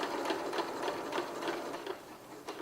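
A sewing machine stitches a fabric scrunchie with a steady, fast run of needle strokes, close and continuous for the whole stretch with no talk.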